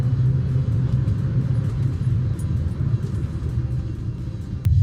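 The engine of a newly acquired project car idles with a steady, deep, throaty rumble, close by and constant, with no talking over it.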